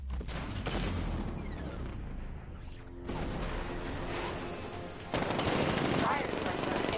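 Rapid, heavy 60mm cannon fire in Batman: Arkham Knight rattles continuously over a rumbling background, cutting out briefly before resuming louder; the dense, processed sound suggests game effects.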